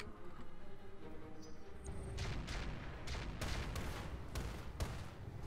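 Indirect artillery fire in the mech game Roguetech, a rapid series of booming impacts, six or seven heavy blasts over a steady low rumble, with no talk.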